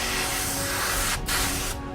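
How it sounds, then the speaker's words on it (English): An airbrush sprays varnish onto a miniature wargaming base, a close, loud, continuous hiss that briefly stops and restarts twice, with a faint steady mechanical hum beneath. "I keep a bit of varnish in the airbrush. I spray it on the base."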